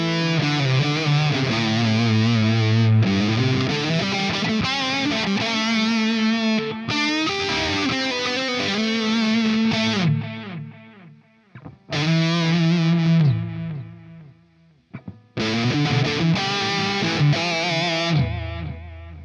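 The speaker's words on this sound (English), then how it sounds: "Again, just a really cool lead sound, lots of nice ambient delay." Electric guitar playing a smooth, distorted lead through an ML Sound Lab Friedman amp plugin, with sustained notes, melodic phrases and lush ambient delay tails ringing out in the gaps, loud and unaccompanied.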